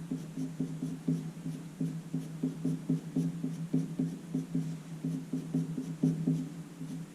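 A pencil shades across paper in a steady run of quick, rhythmic scratching strokes, close and fairly soft, continuing alone without any talking.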